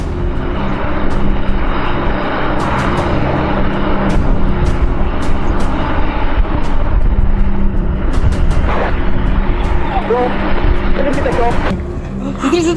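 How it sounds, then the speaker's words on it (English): An airplane on a runway during an emergency landing after a wheel malfunction, with flames from the tires: a loud, continuous engine roar with rumbling low end, sharp bangs and clatters scattered throughout, and voices faintly mixed in. "Due to a malfunction in the wheels, the plane had to make an emergency landing."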